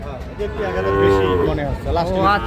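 A single bull or calf at a Chattogram cattle market selling Sahiwal bulls gives one long, loud, close moo that rises and falls, followed by a shorter second call.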